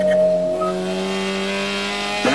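A race car of the 2021 SCCA Hoosier Super Tour driving through Kettle Bottoms at Road America, heard as a steady, close engine drone with a clear tonal whine and a brief shift near the end.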